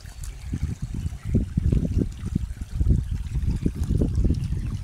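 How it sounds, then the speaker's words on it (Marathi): River water rushes and gurgles over the riverbed close by, a lively, uneven burbling with rhythmic surges, heard alone without talk. "इकडे पाणी बघा किती. हे बघा नदी मित्रांनो"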